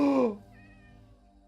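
A single short meow from a Minecraft cat sounds clearly and close, then fades into a soft game background tone.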